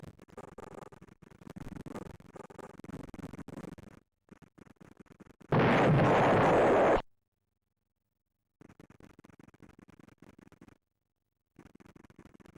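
An explosion in an Amiga arcade conversion game, a single loud burst of noise lasting about a second and a half, set among quieter choppy game sound effects with silent gaps between them.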